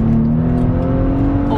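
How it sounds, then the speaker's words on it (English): A Maserati Levante SUV engine rumbles on the throttle, a deep steady tone with a faint rising pitch, loud and close in a brief burst. "A slight brush on the accelerator and it fires off like a big rocket"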